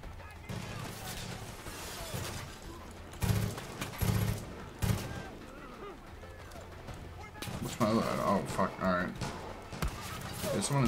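Bursts of gunfire from the video game Far Cry 5 come in short volleys between quieter stretches, and a player talks over the shooting.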